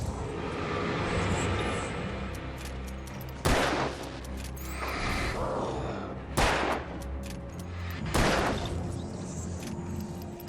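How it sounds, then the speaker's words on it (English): Several loud, sharp shots from a flare gun in the game Alan Wake burst out a few seconds apart over a constant droning background of game ambience. "got a flare gun, use a flare gun"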